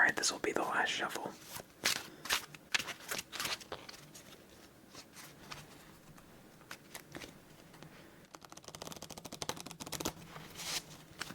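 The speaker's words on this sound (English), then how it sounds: "Alright, this will be the last shuffle." Playing cards are shuffled for a game of Forty Thieves solitaire in quick riffling bursts, close and crisp, with soft murmuring and handling noises between shuffles.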